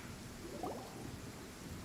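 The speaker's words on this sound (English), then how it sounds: "Only innocent children and timid adults are scared of thunder." Video game thunderstorm: a steady low rumble and rain hiss, a continuous wash of distant thunder at low volume with no speech.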